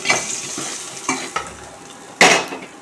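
Homemade dried vadam tempering stirred into a clay pot of drumstick leaf mash gives short sizzling bursts and scrapes, a few spaced knocks, then one louder crackling splash near the end, with no talk.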